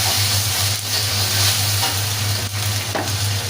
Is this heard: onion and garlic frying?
yes